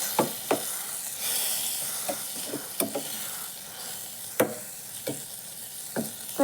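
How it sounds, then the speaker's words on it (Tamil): Tomato curry simmering in a pot with oil separating out, a soft bubbling sizzle broken by sharp pops and spatters spaced every second or so, close and fairly quiet with no voices. "நல்லா கொதித்து எண்ணெய் பிரிஞ்சு வரட்டும்."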